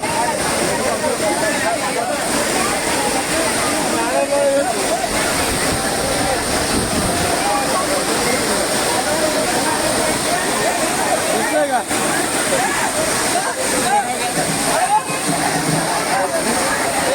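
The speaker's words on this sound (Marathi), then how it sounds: "प्रचंड वेगाने पाणी पडत आहे खाली" The Amboli waterfall near Sawantwadi pours down with great force in a dense, continuous roar of crashing water, loud and unbroken, with voices mixed into the din.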